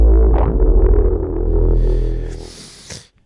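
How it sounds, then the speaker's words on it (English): A Harmor synth bass with distortion and short-decay reverb sounds thick and gritty, swelling then breaking into a noisy wash before stopping abruptly. "Maybe some reverb as well with like a low decay."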